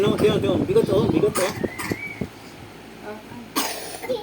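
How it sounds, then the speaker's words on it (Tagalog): A child coughs in a short run of rough coughs near the mic, followed by a few quieter sounds and another brief burst. "inuubo siya"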